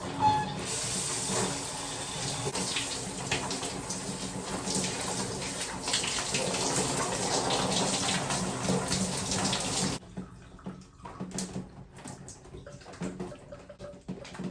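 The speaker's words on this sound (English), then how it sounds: "let's go ahead and turn on the water and rinse." Shower water runs steadily, a dense hiss of spray falling on skin while rinsing off an Olay in-shower body conditioner with B3 and shea butter, then cuts to quieter dripping and splashes for the last few seconds.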